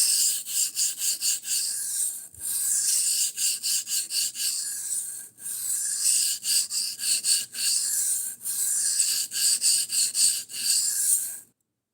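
A knife scrapes in repeated strokes across a 400 grit sharpening stone during a slow reprofile, a close, loud, rhythmic rasping with short gaps between passes and no talking.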